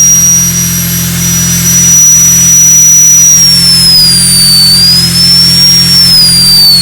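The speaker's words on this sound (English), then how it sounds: "I think you can hear in the background that the compressor just kicked in." An air compressor runs steadily in the background of a carving workshop, a constant loud hum with a droning motor tone and a faint high whine that drifts slightly in pitch, continuing alone throughout.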